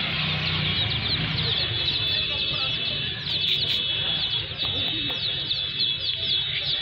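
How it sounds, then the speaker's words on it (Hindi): Chicks chirping in a small group kept near a rabbit, a steady dense high-pitched twittering that runs continuously through the clip over a low rumbling background. "अच्छा चूजे पड़े हैं इस बार आपने लाए ना चूजे"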